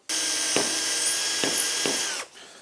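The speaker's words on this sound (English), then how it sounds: "And I'm now going to drill 1," A power drill whirs steadily at high pitch, with a few short surges as it bites into wood for a tracksaw cutting station, then winds down.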